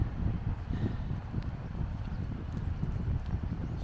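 Horse hooves clip-clop in an irregular rhythm over a low rumbling background, several animals, including foals, moving close by in Potes, northern Spain.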